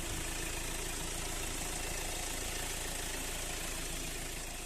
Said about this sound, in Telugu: ఇంజన్ సౌండ్ మాత్రం ఇట్లా ఉంది